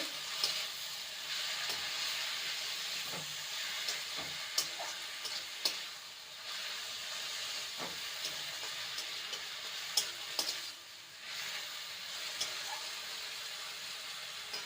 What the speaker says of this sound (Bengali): আর দেবো হলুদ গুঁড়ো ভালো করে নেড়ে নেব